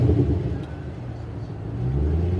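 An HSV VF Clubsport R8 automatic gives off a steady, close, deep engine rumble that swells slightly near the end, without sharp revs.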